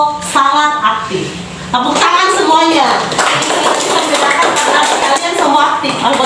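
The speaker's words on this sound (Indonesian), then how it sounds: "Tepuk tangan semuanya." A class of students claps together in a classroom lesson, with bursts of hand clapping mixed with a voice and children's voices, the clapping growing denser and steadier after the first couple of seconds.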